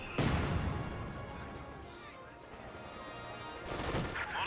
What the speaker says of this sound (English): We do have double mortar half tracks now firing about